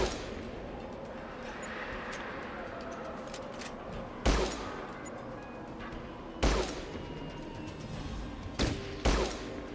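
Burst gunfire in Fallout Tactics: Brotherhood of Steel cracks out in four short, sharp volleys spaced a couple of seconds apart over low background ambience, with no talking.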